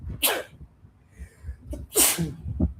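Two sharp sneezes, the first short and the second louder and fuller, close by with quiet breathing and faint background noise between them.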